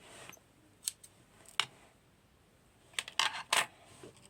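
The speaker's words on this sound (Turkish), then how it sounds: "buradan birazcık ip alıyoruz. Makas yardımıyla keseceğiz." A few sharp scissor snips cutting string, short metallic cuts spaced irregularly, with a quick cluster of closely spaced snips near the end; quiet surroundings, no voices.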